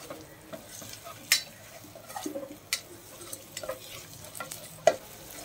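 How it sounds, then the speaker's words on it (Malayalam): Sliced onions stirred into hot oil with garlic, ginger and green chilli for a duck curry give a soft sizzle with scattered spatula scrapes and clinks, fairly faint. "നമുക്ക് ഇനി സവാളയും കൂടെ ചേർത്ത് ഇത് കണക്ക് നിന്ന് മിക്സ് ചെയ്ത് കൊടുക്കുക."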